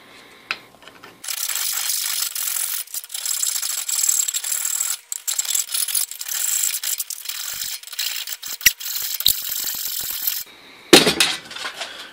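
A hand file works a cut-open metal bracket for a Grizzly G0761 mill's handwheel fix, producing close, continuous rasping strokes for several seconds, followed by a brief pause and a short final burst of scraping.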